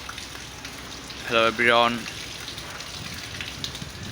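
Heavy rain and wind from cyclone Remal at Sadarghat river port in Dhaka make a steady wash of noise throughout, and a man briefly greets listeners over it.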